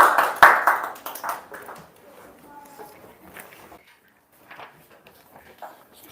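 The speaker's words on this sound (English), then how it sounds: "Let's clap our hands for Ethan." A class audience at a spring speech event claps for a student speaker, a brief burst of hand clapping that fades quickly into quiet room noise and a few scattered sounds.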